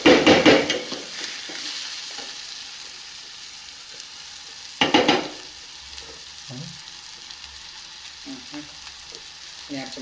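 Egg bhurji sizzling and frying in a pan while being stirred, with soft continuous frying hiss, two bursts of scraping stirring strokes, and occasional light clinks.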